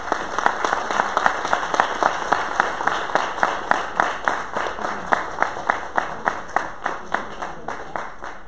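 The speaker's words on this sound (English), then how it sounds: "another big round of applause for Dr. Pointers" Lecture audience applauding in a hall, a steady, even burst of clapping with a strong regular beat that holds at constant loudness throughout.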